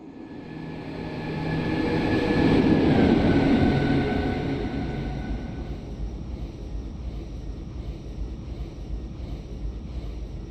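Express passenger train passing in a train simulator game: a rumbling roar swells to a peak and then fades, leaving a steady low rail drone with a faint horn-like tone, no talk.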